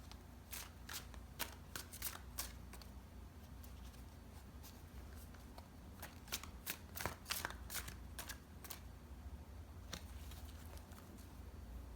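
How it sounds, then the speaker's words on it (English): Tarot cards being shuffled by hand, a run of crisp riffling bursts and soft slaps at close range over a low steady room hum, with no talking. "let's look at your tarot. I'm going to pull some cards for you"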